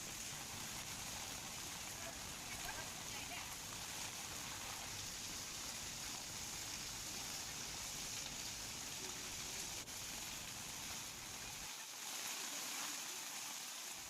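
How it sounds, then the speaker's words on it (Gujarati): Steady heavy rain hisses continuously across the whole stretch in Visavadar, Junagadh, a dense even wash of falling water without voices. "બીજી તરફ વરસાદ વરસી રહ્યો છે."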